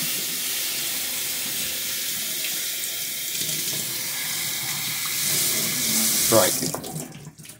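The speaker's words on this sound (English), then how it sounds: "Take it over to the sink. And again, soak it full of water." Water runs steadily from a sink tap as a gas mask is soaked full of water, a continuous rushing splash that swells louder toward the end. A single brief spoken word comes near the end.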